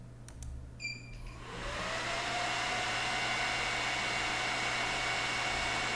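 A server powering on, its cooling fans spinning up from a few faint clicks and beeps into a loud, steady rushing whir that holds at full speed.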